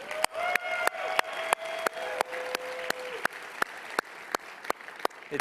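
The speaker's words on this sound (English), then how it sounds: "So round of applause to Hannah and to Tim." A demo day audience gives a round of applause, with steady crowd clapping throughout and sharp, evenly spaced louder claps punctuating it, while a sustained tone hums underneath for the first few seconds.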